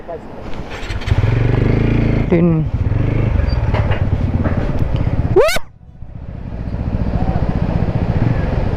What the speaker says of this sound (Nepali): बाइक जान्छ पारी जान्छ होटलसम्म जान्छ